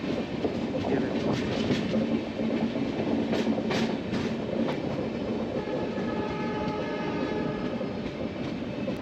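The Wainganga Express passenger train runs on rails with a loud, continuous rumble and rhythmic wheel clatter heard from close up throughout.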